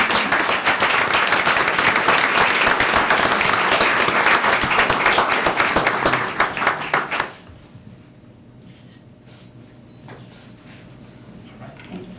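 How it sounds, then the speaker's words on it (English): A Mayor and City Council meeting audience breaks into sustained applause, dense and loud clapping from a full room that stops abruptly around seven seconds, leaving a quiet room with faint rustling. "let's give them a round of applause"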